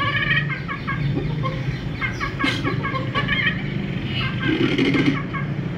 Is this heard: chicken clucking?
yes